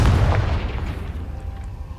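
Confringo fire spell in the Hogwarts Legacy video game, a heavy booming blast up front that rolls into a sustained low rumble and crackle fading over two seconds.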